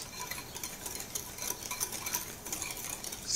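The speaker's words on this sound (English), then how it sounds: "I'm just whisking this all together just to make sure there's no lumps" A whisk stirring flour, granulated sugar and a pinch of salt in a bowl makes a steady, continuous scraping swish, close and fairly quiet, with no talking.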